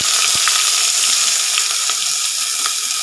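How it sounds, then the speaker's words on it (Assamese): Onion dropped into hot oil with whole cumin and fennel, a loud, steady, close sizzle that fills the whole stretch, with a few faint pops over it. "তেল গৰম হৈ গৈছে দেখিছেনে এইখিনি এতিয়া মই ইয়াতে দি দিম পিঁয়াজ"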